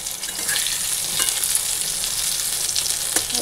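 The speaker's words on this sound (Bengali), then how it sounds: "তো এই যে পটল ভাজা একবারে সব বসিয়ে দিয়েছি," Sliced pointed gourd fries in oil, giving a steady, dense sizzle and crackle that holds evenly throughout, close and fairly loud, with no voices.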